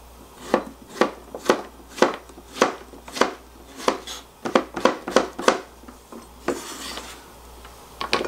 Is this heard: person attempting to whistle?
no